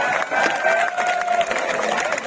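Crowd at a Hindi-language protest rally claps and cheers loudly, a dense continuous roar of clapping and voices with a faint whistle-like tone running through it.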